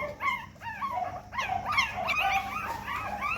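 Several young Pomeranian puppies whimper and yip in high, rising cries, overlapping continuously at close range with no one speaking.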